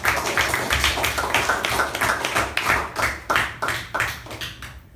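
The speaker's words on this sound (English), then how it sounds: "Can we have a huge round of applause for you?" Applause from an audience at a Toastmasters meeting, steady clapping with rhythmic pulses that fades toward the end, close and fairly loud with no talk over it.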